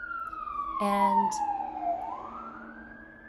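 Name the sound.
siren of an emergency vehicle passing by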